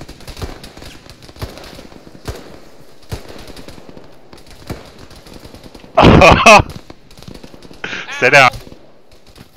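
Galil rifle fire in a video game cracks out in two loud, rapid bursts, one longer and one shorter, after a stretch of quieter sounds and a brief spoken line.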